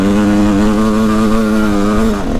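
A Kawasaki motocross bike runs on a dirt track, a loud close buzzing engine note holding a steady pitch before dropping off at the end.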